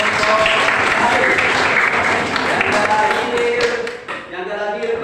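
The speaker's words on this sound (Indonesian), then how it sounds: "Tepuk tangan untuk kelompok matahari." Classroom applause for a student group at a university teacher-training session, loud and sustained for about five seconds, dense clapping with voices mixed in, dipping briefly near the end before picking up again.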